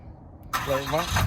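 A 2014 Ram 2500 Laramie with a 6.7L Cummins diesel starts by remote, a sudden loud crank and catch after a quiet lead-in, then settles into a steady rumbling idle close by.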